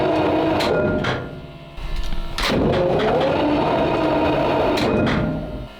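A WWII tank engine cranks on the starter during a start attempt, a loud, continuous mechanical churning with a brief dip partway through and sharp knocks, heard close up in a workshop.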